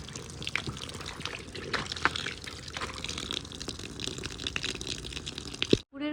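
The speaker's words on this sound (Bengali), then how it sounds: "প্রথমে কম্বলগুলো ধুয়ে নিচ্ছি।" Soaked blankets are washed by hand in water, giving a steady splashing and sloshing with dripping and trickling throughout. A sharp knock sounds just before the end.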